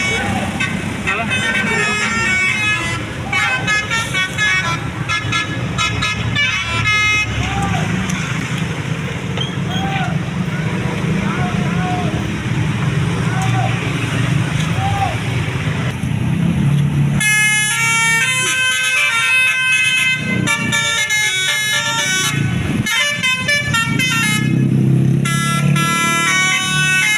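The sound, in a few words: Basuri telolet musical horn on a bus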